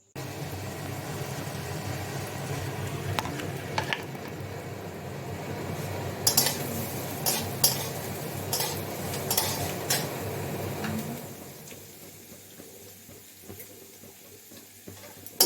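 Chow mein is stirred in a pan with a metal utensil, with repeated scraping and clinking strokes, some sharp clacks, close and fairly quiet, before the stirring fades to a softer background.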